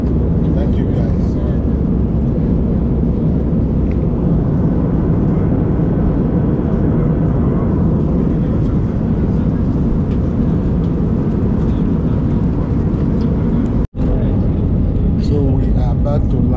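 Steady, loud broadband engine and air roar fills a United Nigeria Airlines airliner cabin in flight shortly before landing at Owerri, continuous throughout with one brief dropout near the end.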